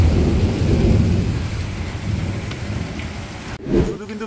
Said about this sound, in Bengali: বৃষ্টির সাথে সাথে কিন্তু আমরা যেটা দেখতে পাচ্ছি সেটা হচ্ছে মানে বিদ্যুৎ চমকাচ্ছে অ্যান্ড তার পাশাপাশি কিন্তু যে মেঘের গর্জন সেটাও কিন্তু শোনা যাচ্ছে।